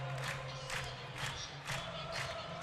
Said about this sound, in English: None other than 7 Nation Army blasting over the loudspeakers in Kinnick adds a jolt of energy to this crowd